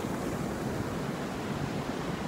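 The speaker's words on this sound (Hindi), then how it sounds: "लहरें आ रही हैं" Sea waves wash onto the shore in a steady, even surf roar mixed with wind rush, with no voices.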